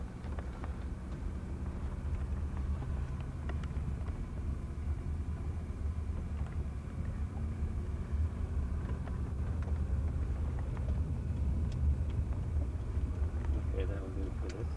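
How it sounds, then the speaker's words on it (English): An automatic-transmission car driving down Fairfax Avenue, heard from inside as a steady low engine and road rumble throughout, with a voice talking over it. "Driving down Fairfax Avenue."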